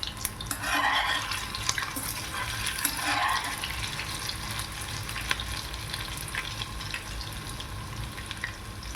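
Veg manchurian balls deep-frying in very hot oil at home, giving a steady, continuous sizzle and crackle close by with occasional stirring clinks, no talking.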